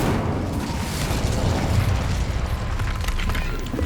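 Incendio fire spell cast in Hogwarts Legacy, heard as a continuous dense roaring burst of flame and rumbling impact noise, loud throughout with no break.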